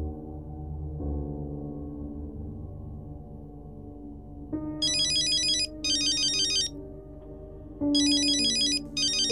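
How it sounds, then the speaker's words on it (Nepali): A mobile phone's ringtone sounds in a scene from a Nepali film. Bright, high electronic bursts repeat in three separated pulses over a sustained musical tone. "राकेशको फोन के भनौँ?"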